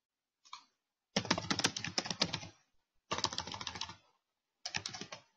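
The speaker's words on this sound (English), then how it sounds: "Let's type in biker tattoo" Bursts of typing on a computer keyboard, rapid close clicks in three main runs separated by short pauses, with a brief tap at the start and no talking.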